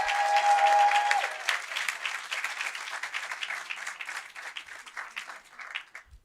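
An audience at a school district board meeting applauds, a dense crowd of claps that is loudest at first and then gradually thins and fades out.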